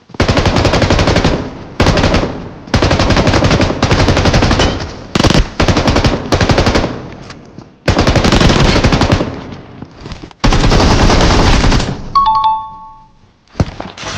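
Automatic gunfire in a BGMI/PUBG Mobile battle, loud sustained bursts of rapid shots broken by short pauses, ending with a few faint electronic chimes and a last burst.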